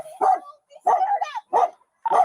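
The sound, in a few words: dog barking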